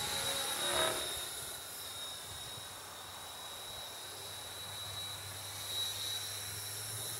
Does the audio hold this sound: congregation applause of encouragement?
no